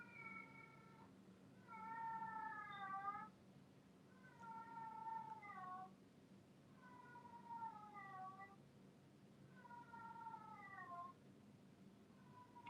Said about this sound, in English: I know y'all can hear the damn cat.